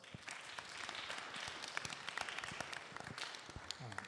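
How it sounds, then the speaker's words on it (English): A crowd gives a round of applause for volunteers and sponsors at a Bhaagvat Katha gathering, a soft, distant wash of many hands clapping for several seconds with a few sharper individual claps and faint voices underneath. "Please give them all a round of applause."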